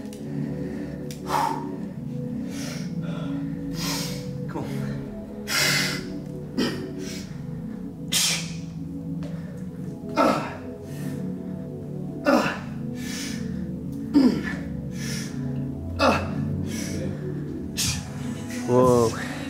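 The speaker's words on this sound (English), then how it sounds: "I'm never getting this breath back." A man breathes heavily after a back-workout drop set, with loud, ragged gasps and sharp exhalations recurring every second or two at close range, mixed with short bits of talk.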